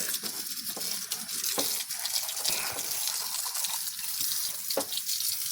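Water from a hose rinses a car engine bay during a foam engine cleaning. The spray is close, loud and continuous, a steady rushing hiss with splashing throughout.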